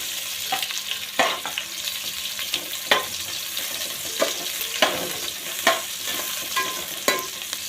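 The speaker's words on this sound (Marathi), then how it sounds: "त्यामध्ये कांदा आणि सर्व मसाले भाजून घेऊया।" Onion and spices roasting in oil in a pan, a continuous close sizzle punctuated by repeated scraping stirs of a spoon at irregular intervals.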